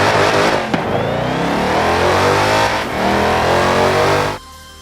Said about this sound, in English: Also, the Hellcat sounds awful in Horizon 4.